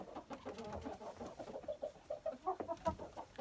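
Hens clucking softly nearby in a coop, a rapid, uneven run of low throaty clucks and brief murmurs that grows slightly busier toward the end.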